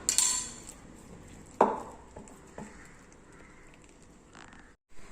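A spoon scrapes and clinks against a bowl while stirring sugar with ground cardamom and dry ginger powder, a sharp clatter near the start followed by soft, intermittent scraping at close range with no talking.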